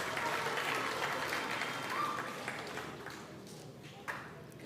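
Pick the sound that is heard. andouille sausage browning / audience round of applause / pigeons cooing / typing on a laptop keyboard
audience round of applause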